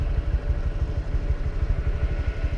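A 2018 Honda Grom motorcycle engine runs close by with a steady, low, rapid thumping pulse, a continuous idle-like rumble with no other sounds.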